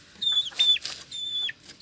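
Black chickens and chicks with a rooster give short, high, clucking calls close by, several quick chirps and squawks in a row against a quiet background.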